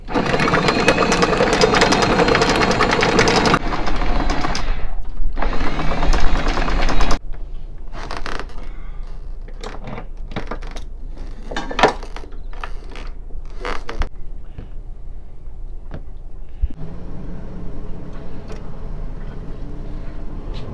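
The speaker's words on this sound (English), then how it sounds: "have to have the port engine going for the anchor winch to work apparently, so up we come." A sailboat's anchor winch hauls up the chain with loud mechanical creaking and clanking while the port engine runs, then the grinding stops and scattered clunks and knocks follow over a quieter background.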